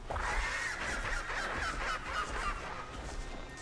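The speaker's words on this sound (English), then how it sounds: "He sounds like a seagull." A Rhamphorhynchus in the Path of Titans game gives a shrill, seagull-like squawking call, a run of harsh repeated cries that stays fairly close and faint.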